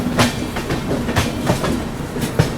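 The New Delhi–Dibrugarh Town Rajdhani Express passing close by, a loud steady rumble with rhythmic clickety-clack of wheels over rail joints.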